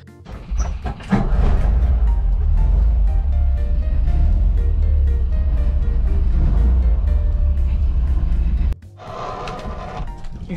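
Car carrier truck driving on the way to a vehicle inspection, a steady loud engine rumble with road noise throughout, briefly dropping near the end before resuming.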